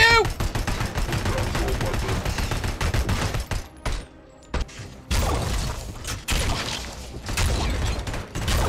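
Heavy gunfire in the RoboCop: Rogue City shooter game: dense, loud volleys of rapid shots and mechanical clatter, broken by a brief lull, with a voice speaking over parts of it.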